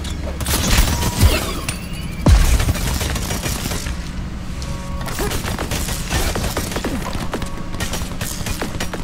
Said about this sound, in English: See, they just keep shooting me, man.